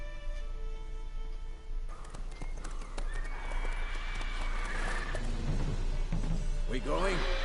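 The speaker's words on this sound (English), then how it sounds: "Whoa there, Roach." Hooves of the horse Roach clip-clop in Witcher 3, with snorts and a whinny rising near the end, heard over a steady game music and ambience bed.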